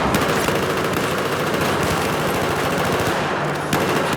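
Sustained automatic gunfire from a Call of Duty defuse match on the map Locker, with rapid continuous bursts filling the whole stretch, loud and dense, no voices over it.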